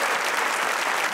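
Dense, steady applause from a studio audience at a comedy talk show, continuous and loud throughout with no voices on top.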